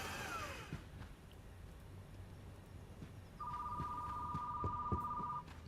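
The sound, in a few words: telephone ringing in a video game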